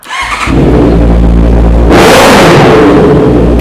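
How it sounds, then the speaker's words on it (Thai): A Honda CBR650R 650 cc inline-four sport motorcycle revs loudly up close, a low rumble building quickly and then surging into a sharp, high-pitched wail that holds to the end, with no voices. "บิ๊กไบค์ 650 c c นะครับส่สูบเรียง เสียงหวานๆการันตีความแรงเครื่องยนต์ด้วยรหัส R"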